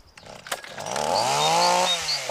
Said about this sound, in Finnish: Niin, työjohtaja halusi nähdä moottorisahan.